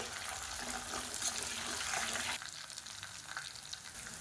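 Small whole onions and garlic cloves sauté in hot oil in a pan for a Tamil kuzhambu, a steady close sizzle with stirring that drops to a quieter crackle halfway through.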